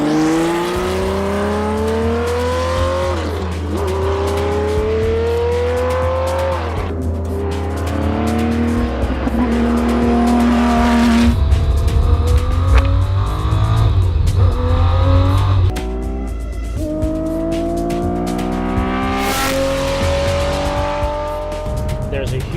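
A Porsche 917 race car engine revs hard on track with loud, rising and falling howls as it accelerates and shifts, along with some tire squeal. A voice talks under the continuous engine roar.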